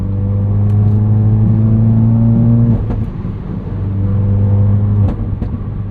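A 2016 Ford Focus RS, a 350 hp hot hatch, pulls hard with a loud rising engine note, drops away for a gear change near the middle, then climbs again before easing off, heard from inside the car without talk.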